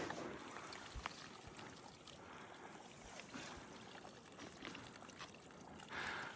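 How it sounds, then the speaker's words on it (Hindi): Cold mountain spring water trickles and pours steadily in a remote Pakistani village, a continuous soft splashing wash, faint and close, with occasional knocks and no speech. "ये ग्लेशियर से नहीं, चश्मे का पानी।"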